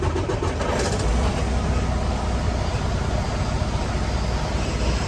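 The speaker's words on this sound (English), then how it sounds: "We're going to crank this thing up." A truck engine cranks and starts after a fuel filter replacement, heard as a loud, steady, rumbling roar up close that carries on without a break.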